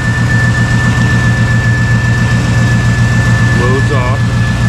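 A car engine idles steadily and loudly with a constant low hum and slight vibration during a battery analyzer test with high beams and blower motor on, while a person speaks over it.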